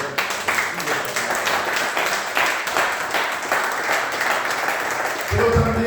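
Congregation at a Christmas-season church service bursts into loud, sustained applause. Dense clapping runs for several seconds with a few voices mixed in before it tapers off.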